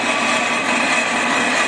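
A brake lathe machines a Willys CJ5 jeep flywheel, giving a steady, continuous whirring and scraping hiss that holds at an even level throughout, with no pauses.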